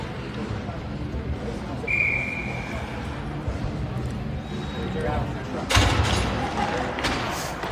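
A referee's whistle at an Icemen versus Bow River Bruins ice hockey game, one short shrill blast heard at middling distance over constant arena crowd noise, followed later by a thud against the boards.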